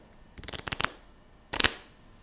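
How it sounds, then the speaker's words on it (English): Playing cards caught from a deck with a rolled thumb, a quick riffle of soft rapid clicks followed after a pause by a second short burst, close and quiet. "by rolling my thumb, I can immediately catch all the cards above it"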